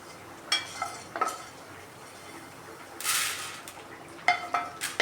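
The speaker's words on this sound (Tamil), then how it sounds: "உளுந்து பருப்பும் போட்டு வதக்கிக்கணும்." Urad dal fries in a pan while a spoon stirs and scrapes it, giving sharp metallic clinks and short scraping bursts over a faint, low sizzle, with no talking.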